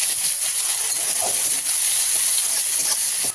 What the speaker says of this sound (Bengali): কেটে রাখা পেঁয়াজ কুচি আমি এর মধ্যে দিয়ে দেবো